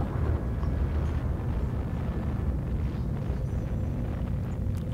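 A nuclear missile detonates in the strategy game Civilization 5, heard as a sustained, deep, roaring rumble that holds steady at moderate loudness throughout without a sharp initial blast.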